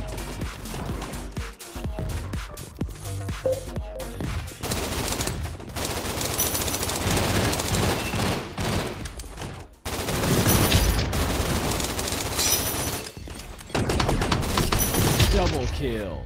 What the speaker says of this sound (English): What was that? Double pistols?